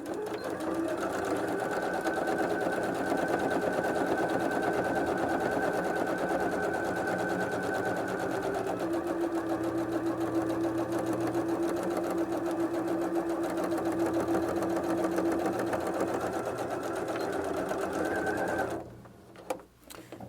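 A sewing machine runs steadily for a long, unbroken stretch, topstitching a seam on a fabric double wallet. The rapid needle chatter is close and loud, then stops abruptly near the end.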